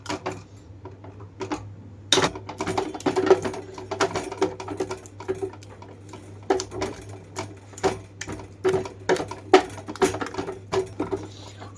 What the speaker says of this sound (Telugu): పప్పు గుత్తితో కొంచెంగా మెదిపేస్తున్నాను.